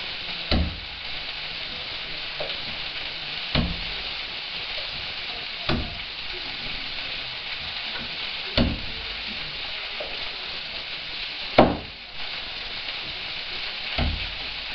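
Unpeeled garlic cloves sizzle and fry in a paella pan, a steady crackling hiss broken by several sharp knocks and clatters at irregular intervals.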